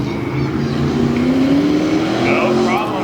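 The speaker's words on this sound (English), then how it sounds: "Adam Kasilowicz in the Ford Raptor, the Underground Customs machine, taking on that little orange Dodge" A Ford Raptor and a small orange Dodge truck race in a Tough Trucks Challenge final at Lima, Ohio: a loud, continuous engine roar with a rising whine, heard close up beneath an announcer's commentary.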